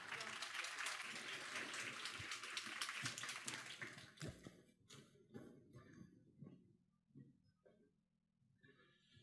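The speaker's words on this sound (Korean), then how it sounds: "큰 박수 부탁드리겠습니다." Audience applause for a presenter at a corporate AI talk, dense clapping that thins into a few scattered claps and fades to quiet at the end.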